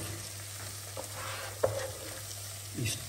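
Peppers frying in a pan with chili and ground sweet paprika, a steady soft sizzle with occasional stirring clinks and scrapes, close and fairly quiet, no talk.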